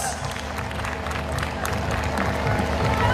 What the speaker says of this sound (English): So this definitely calls for a big round of applause to our BBRTM toddlers.